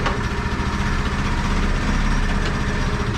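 Steady, close, loud idle of a Chinese YB-150 scooter engine after repair, an even low rumble with faint mechanical rattle running throughout.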